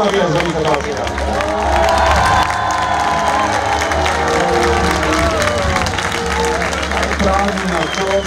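Spectators in the east grandstand at a motorsport show at Lipica cheering and shouting for a rally driver, a loud continuous crowd roar with an announcer talking over it.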